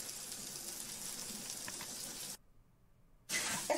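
A pot of potatoes boiling over on the stove, with water hissing and sizzling in a steady, fairly faint wash that cuts out briefly before returning louder.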